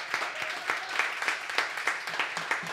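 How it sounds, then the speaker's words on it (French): Audience applause in a television game-show studio, a steady patter of many hands clapping at moderate loudness, without talk. "je voudrais, s'il vous plaît, messieurs, dames, que vous offriez quelques applaudissements"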